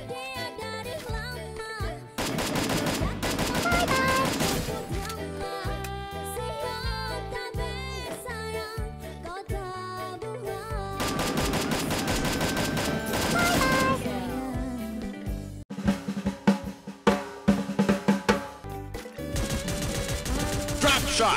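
Gunfire from drop shots in the mobile shooter Free Fire, heard over loud music, with rapid bursts of sharp shots clustering toward the end.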